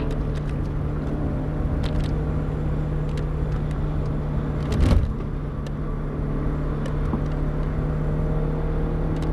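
Reasonably priced car run at full power around a race track, a steady droning engine and road noise heard from inside the cabin, with a brief louder thump midway.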